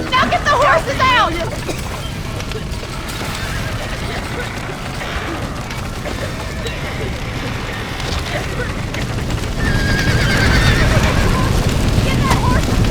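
In a Red Dead Redemption (2010) cutscene, horses neigh loudly near the start and again later over a constant rumble of hooves and crowd commotion, with shouting voices mixed in.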